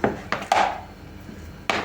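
A few sharp clinks and scrapes of a spoon against a bowl while stirring a crab-stick filling of boiled eggs and mayonnaise, spaced irregularly over a couple of seconds, close by with no talking.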